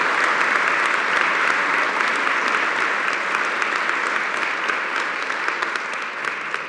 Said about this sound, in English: Can we have a round of applause for the faculty, please?